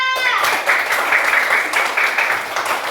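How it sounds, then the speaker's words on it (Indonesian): A primary school class claps for a student who has just answered, a brief burst of children's applause that starts sharply and stays fairly close and even. "tepuk tangan untuk Angga"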